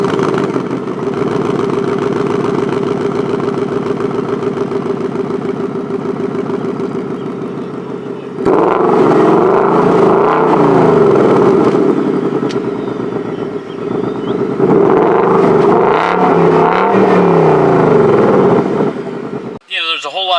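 A 2021 Ford Mustang Mach 1 V8 engine idles with a deep steady rumble, then fires up louder with revving surges, cutting off abruptly at the end.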